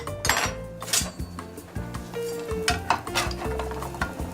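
Egg frying in oil in a pan, with a steady sizzle broken by clinks and scrapes of a utensil and the pan being tilted, close and fairly loud with no talk.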